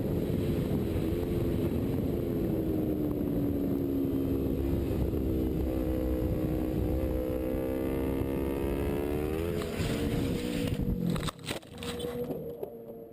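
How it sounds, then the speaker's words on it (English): A motorcycle engine drones steadily and close on a track, its pitch dipping and rising as it rides, then breaks into rough, uneven noise near the end as the rider loses control. "he'd been riding on his motorcycle on track"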